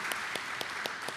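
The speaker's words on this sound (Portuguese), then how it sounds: "com essa salva de palmas que é oferecida a ela" An audience at a Brazilian business awards evening gives a round of applause, a dense steady clapping with a few louder individual claps cutting through.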